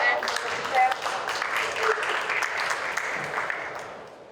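Applause from a congress audience, a steady wash of clapping that fades slightly toward the end, with faint voices mixed underneath.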